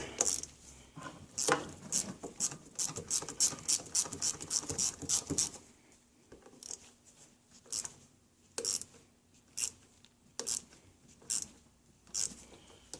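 Rapid ratchet clicking as screws are turned on the lower unit of an Evinrude 40 HP outboard, a dense burst of clicks for about six seconds, then slower separate strokes of ratcheting, close and alone.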